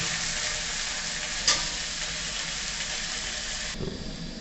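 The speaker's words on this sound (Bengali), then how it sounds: "লাল লাল করে পেঁয়াজগুলোকে ভেজে নেওয়ার পরে আদা রসুনটা দিয়ে দেবো" Onions fry and are stirred in a pan for a Bengali fish curry, a steady close sizzle filling the clip, with a spoon clink near the start and a scraping stir near the end.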